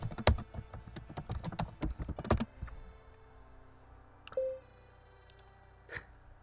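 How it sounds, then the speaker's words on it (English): Rapid clicking of keys on a computer keyboard, close up, in a busy burst that stops abruptly, followed by a few isolated taps with quiet gaps. "The typing you're gonna hear me do over the next like 10 seconds is IRC"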